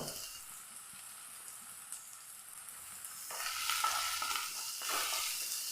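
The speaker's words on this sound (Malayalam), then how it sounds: "നല്ല പോലെ ഒന്ന് വഴറ്റിയെടുക്കാം" Chopped green chillies and onion are sautéed in a pan. A quiet, steady sizzle comes first, then louder scraping stir strokes join in, close up, with no voices.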